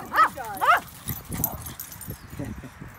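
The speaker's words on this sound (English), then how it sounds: "He's running with a big dog." A big dog gives two quick rising whimpering yips close by at the start, followed by softer scuffling and low rustling noises.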